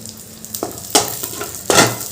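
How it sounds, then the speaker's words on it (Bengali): Cashews and raisins hit hot ghee in a pan, giving a steady close sizzle broken by a few louder bursts of spitting and stirring, with no one talking. "যে কাজু কিশমিশগুলো নিয়েছিলাম সেগুলো একটু ভেজে নেব"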